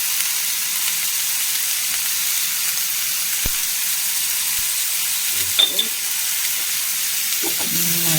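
Sliced onions and chillies fry in a pan for Kerala-style sambar, a steady broadband sizzle with a few clinks of a spoon against the pan near the end.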